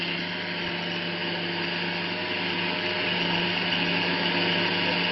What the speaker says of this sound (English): Just a simple click on the button, you would have a blender doing all the hard work for you.